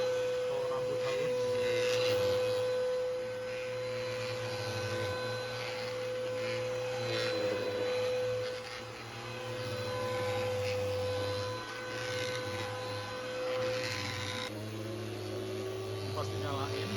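A Deerma anti-mite and dust vacuum cleaner runs with a steady motor drone and a strong low hum, holding level for the whole stretch with a slight shift in tone near the end.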